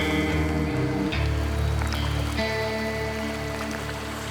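Steady rain patters on surfaces in an Ecuadorian rainforest, a continuous wash of drops heard up close over a low, even rumble, with no voices.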